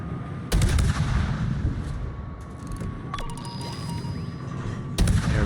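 Naval guns fire in a warship video game, a loud booming salvo at the start, rumbling continuous battle noise, then another heavy volley near the end, with no speech.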